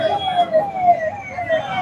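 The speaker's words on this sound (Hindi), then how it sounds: "एम्बुलेंस को यहाँ पे लोग जाने दे रहे हैं ताकि लोगों का इलाज ना रुक सके।" An ambulance siren sounds steadily as it passes through a road blockade set up by protesting labourers in Noida, the wailing tone riding over crowd voices and road noise throughout.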